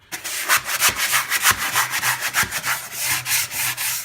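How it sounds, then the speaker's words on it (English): Coarse sanding block rubbed over primed wooden staircase, a dry, gritty scraping in quick back-and-forth strokes, close and steady with rhythmic swells. "like a heavy duty sanding block or a coarse sanding block."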